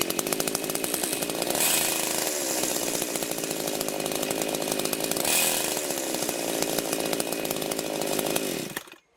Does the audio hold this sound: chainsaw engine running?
yes